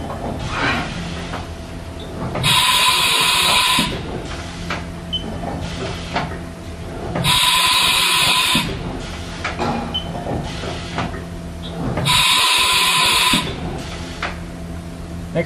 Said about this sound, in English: Next, we'll go ahead and do a tool change.